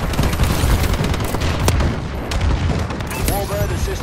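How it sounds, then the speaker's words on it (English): A bombing run in Call of Duty Advanced Warfare, with explosions and gunfire packed into a dense, continuous roar of battle. Sharp blasts punch through a steady wall of rumbling combat noise. "Friendly bombing run incoming."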